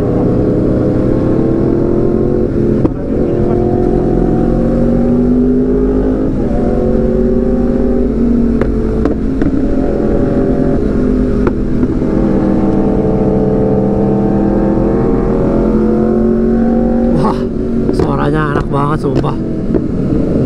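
A Yamaha R1M and a Honda CBR sport bike rev hard at Sudirman Raceway during a night ride, giving a loud, continuous engine roar with rising and falling revs under people talking nearby.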